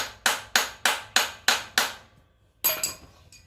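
Six evenly spaced sharp metal hammer taps drive a part into a Honda XR400R swingarm, each ringing briefly, followed by a pause and two quicker lighter clinks and a small tap, alone without talk.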